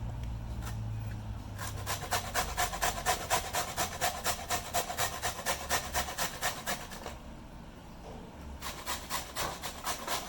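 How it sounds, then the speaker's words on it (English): Suran (elephant foot yam) rubbed against a grater for mango pickle, a close run of quick rhythmic rasping strokes with a short pause before the strokes resume, no talking. "After grating the mango, we'll grate this suran."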